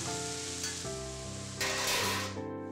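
Tomato paste for rasam bubbles and sizzles in a pan, a soft close simmer with light crackling that swells briefly midway.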